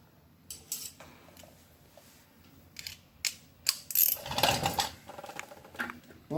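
Hand ratchet turning a socket while working on the brake shoes of a 1952 Ferguson TEA tractor, with quiet scattered clicks and metallic clatter that build into a louder burst of clicking and rattling midway, close up and without talk.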